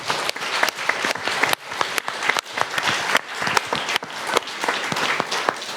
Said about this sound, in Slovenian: Tako da res en velik aplavz in pohvala,